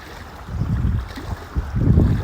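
Gusty wind rumbles against the microphone while small wind-driven waves lap and wash in at the shore of Newmillerdam lake, low and restless, with no talking.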